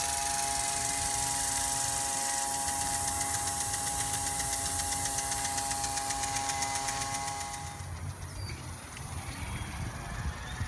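A Harbor Freight gasoline irrigation pump engine runs at a steady, droning idle for most of the stretch, then the tone drops and turns rougher near the end, with no talking over it.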